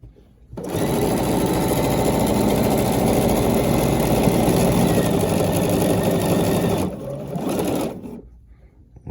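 A Bernina 770QE sewing machine stitches a quarter-inch seam in one loud, fast, steady run of needle chatter that starts abruptly, dips briefly near the end, then stops.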